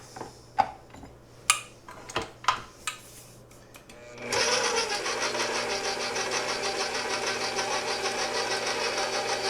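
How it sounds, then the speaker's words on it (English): A stand mixer fitted with a dough hook kneads cinnamon roll dough on low speed, starting after a few sharp clicks and clatters and then running as a steady, close whirring hum with a faint regular pulse to the end. "Take our dough hook. We're going to mix this on low speed"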